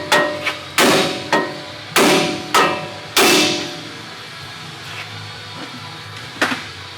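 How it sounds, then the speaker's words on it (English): Hammer striking the steel spindle of a Ford F150 to free the ball joint during a strut and shock install: a series of sharp metallic blows, several loud ones early, then lighter taps, close and with no talk. "use a hammer and hit against the spindle here to dislodge the ball joint from the spindle"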